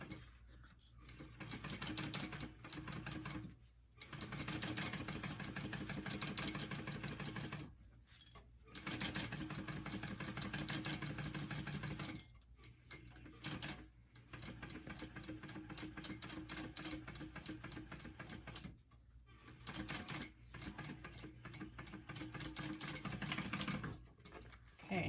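Sewing machine stitching a handbag slowly around a curve, a rapid mechanical chatter running in bursts with short pauses between, fairly faint and close, with no talking.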